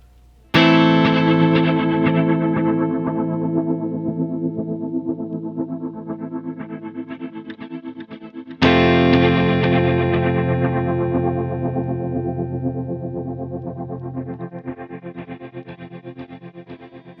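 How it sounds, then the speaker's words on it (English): Two struck chords on an overdriven electric guitar feed a Strymon TimeLine MX delay whose filter sweeps across 16 repeats. Each chord decays into a long, shifting tail of echoes, loud and alone with no talk. "So there we hear the filter sweeping across the 16 repeats."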